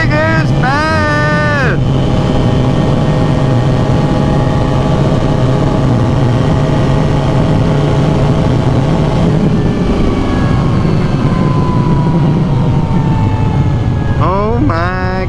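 A motorcycle fitted with an HMF exhaust runs on a DynoJet dyno, its engine holding a loud, sustained drone with rising pitch at the start and again at the end, with some background noise.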